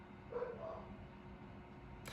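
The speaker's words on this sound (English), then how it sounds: "of course, dogs are yapping" Small dogs yapping faintly in the distance, one short cluster of yips early on over a low steady room hum, then a brief sharp noise at the end.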